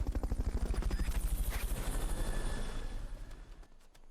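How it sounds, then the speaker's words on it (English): Helicopter in Metal Gear Solid Peace Walker during a Fulton recovery, with rapid, even rotor chopping up close that fades away near the end. "Fulton recovery subject confirmed onboard helicopter."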